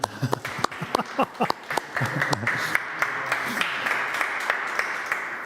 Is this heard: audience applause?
yes